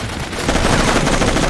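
Rapid enemy gunfire crackles in the Raven Squad video game, a dense continuous burst of shots that grows louder partway through and keeps pounding without a break.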